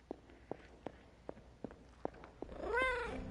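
A cat in Marvel Midnight Suns pads closer with a series of soft, evenly spaced steps, then gives one clear rising-and-falling meow over a low purr, close and quiet.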